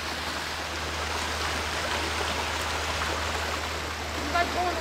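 Swollen Mitchell Creek runs high and fast, a steady, close wash of rushing water that fills the whole stretch without a break.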